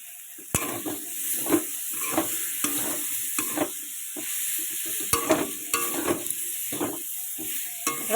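Cauliflower and potato curry sizzles in a pan while a spoon stirs it, producing repeated scraping and knocking strokes over a steady hiss, fairly close.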